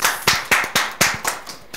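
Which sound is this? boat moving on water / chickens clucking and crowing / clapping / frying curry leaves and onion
clapping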